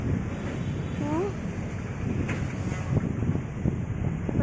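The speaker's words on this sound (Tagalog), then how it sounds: "Mainit pero malamig naman kasi malakas ang hangin" Strong wind rushing across the microphone outdoors in Luneta Park, a steady loud roar with faint voices underneath.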